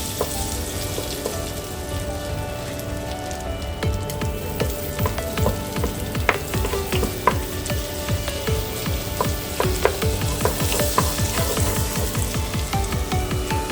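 Butter melting in a pan for blanquette de veau, giving a dense, even sizzle with crackling pops, close and steady for the whole stretch with no voices.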